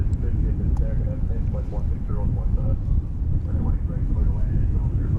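An American Airlines Airbus A321 arriving from Los Angeles at Dallas Fort Worth airport, a steady distant jet rumble that holds throughout beneath continuous talking.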